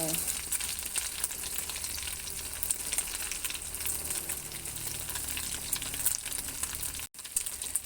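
Omelette with red ant eggs frying in oil, pressed down in the pan: a dense, continuous, close crackling sizzle of hot oil with faint scraping, briefly cutting out near the end.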